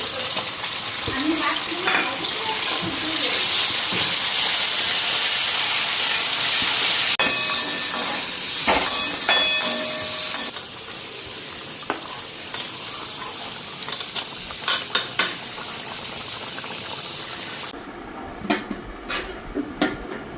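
Spices tipped into a hot pan sizzle and hiss steadily, with clatters of stirring and scraping that grow sparse and clicky toward the end; a voice speaks briefly at moments.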